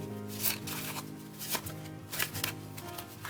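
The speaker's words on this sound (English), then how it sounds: "let me give these a shuffle." Tarot cards are riffled and shuffled in several quick bursts of crisp flapping and snapping, close and fairly quiet.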